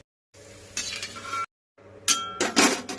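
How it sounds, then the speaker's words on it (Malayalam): Raisins frying in a pan of ghee and oil for dum biryani, with two bursts of sizzling and clinking stirring against the pan, separated by a short silence. "ഇനി മുന്തിരി ഒന്ന് വറുത്തെടുക്കാം"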